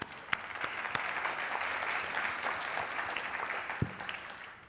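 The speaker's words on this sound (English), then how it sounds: "So applause to those guys." Steady applause from an audience at a panel event for Kaggle Grandmasters in London, a dense clapping wash that carries on for several seconds with a few sharper claps standing out, and no talk over it.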